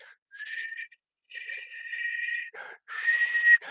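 Several sustained whistled tones in short bursts separated by pauses, fairly clear and close, with a slightly breathy quality.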